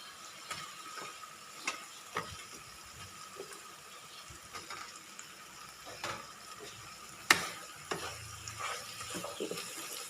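Fried fish tossed and stirred in a pan with chilli and salt, giving a steady low sizzle broken by scattered clicks and scrapes of a utensil against the pan.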